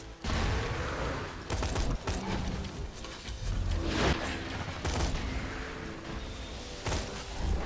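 Enemies in Borderlands 2 keep firing guns in a dense, continuous exchange, with sharp shot cracks punctuating a busy layer of clanking mechanisms and whooshes throughout.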